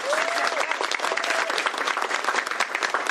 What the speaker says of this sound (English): Another round of applause for Representative Obras.